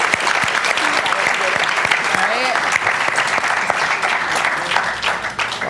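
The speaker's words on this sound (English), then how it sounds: "let's have another round of applause for them while we wait for them" A crowd claps in sustained, dense applause with scattered voices and cheers mixed in, staying loud and even before tapering slightly at the end.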